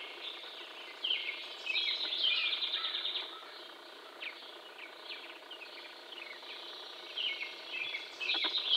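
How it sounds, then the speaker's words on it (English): Birds sing and chirp at about 5 am under a cloudy Canadian summer sky, several high twittering calls overlapping in bursts, fairly close and moderately loud over a steady faint background hiss. "Listening to the beautiful birds."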